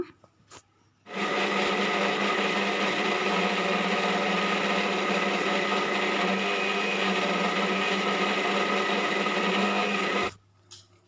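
A kitchen mixer grinder blitzing tomato, onion, ginger, garlic, cinnamon, cloves and peppercorns into masala: a loud, steady motor whir starting abruptly, running about nine seconds, then cutting off.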